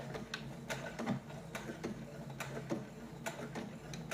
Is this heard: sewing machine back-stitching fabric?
yes